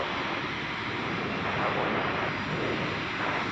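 An airplane takes off on the north side of Chicago O'Hare airport, its engines making a constant, dense roar with no pauses, heard from some distance.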